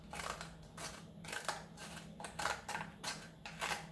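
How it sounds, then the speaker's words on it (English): Scissors snip through paper along a drawn line in a steady run of crisp, close cuts, roughly two per second, with no talking. "Pop your scissors in there"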